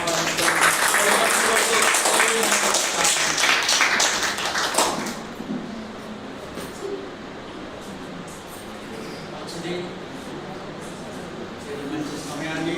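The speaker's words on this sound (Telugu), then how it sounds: "చప్పట్లో దైవ సేవకులు మనం ఆహ్వానిస్తాం." A church congregation at a new church dedication claps to welcome a pastor. The applause is loud and dense for about five seconds, then fades to scattered taps and murmurs.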